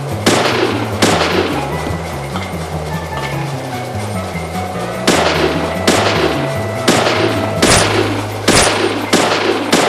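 Gunfire in a boss fight in the video game Deadly Premonition, a series of loud sharp shots at uneven intervals over a low rumbling game soundtrack.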